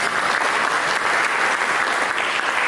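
A church congregation breaks into steady, dense applause that fills the room evenly from start to finish, with no voices standing out above the clapping.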